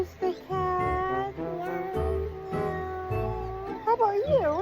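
A person imitates a cat by meowing several times, with drawn-out, tuneful cries over a low background. Speech comes between the cries.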